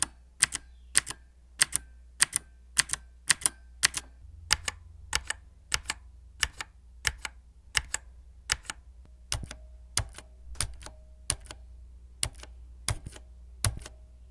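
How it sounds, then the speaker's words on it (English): Mechanical gaming keyboard with Cherry MX switches being typed on, crisp isolated key clicks in an uneven rhythm over a quiet low hum, close and fairly soft, no voices. "take a look at the operation noise levels themselves to see how it compares against a standard Cherry MX Red switch and a Cherry MX Blue switch"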